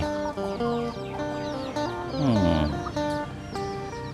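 Native Thai backyard chickens cluck busily up close while a rooster lets out a loud crow midway, then the clucking resumes.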